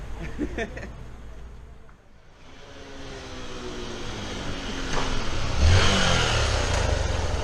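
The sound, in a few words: motorcycle engine revving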